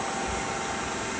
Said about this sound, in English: So a lot of that noise is just from that rubbing on that thing right now.